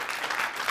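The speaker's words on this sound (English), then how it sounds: "love the clapping" Brief burst of audience clapping during a nutrition talk, soft and somewhat distant, a short even wash of applause with no voices over it.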